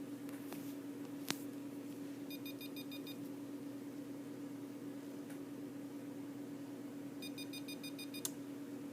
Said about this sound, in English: it'll start beeping at about 20 seconds, kind of giving you a warning